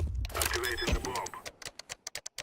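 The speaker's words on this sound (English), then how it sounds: "Activating the bomb." Bomb being planted in Counter-Strike 2: a voice speaks first, then a rapid sequence of sharp, evenly spaced electronic beeps from the arming device, close and clear.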